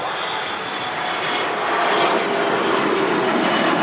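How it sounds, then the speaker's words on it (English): A Virgin Atlantic A330 taxis at Manchester Airport, its engines giving a steady, loud jet roar and whine that swells slightly and holds without pause. "we got the Virgin Atlantic A330 taxiing out now"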